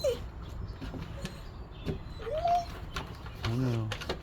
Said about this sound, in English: There's birdies here.